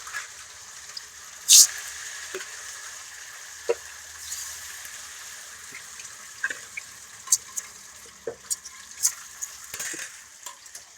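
Oil sizzles softly and steadily in a pan as fish fries, with occasional sharper crackles and pops rising above the low hiss.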